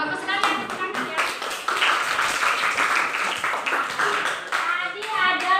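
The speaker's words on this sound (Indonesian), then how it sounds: "tepuk tangan ya" A classroom of children claps in a burst of applause lasting several seconds, with a few young voices audible among the clapping.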